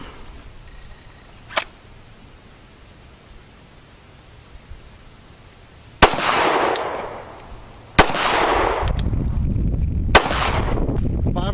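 Handgun shots ring out during a concealed carry appendix draw drill: one faint early report, then three loud, sharp cracks a couple of seconds apart, each trailing a booming echo over steady background noise.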